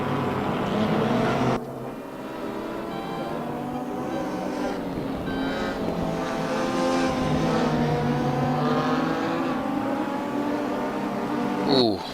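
GTR 4 Series race cars battling closely at Mantorp Park, engines droning and shifting pitch as they run nose to tail, a steady mid-distance roar with rising revs and a brief sharper burst near the end.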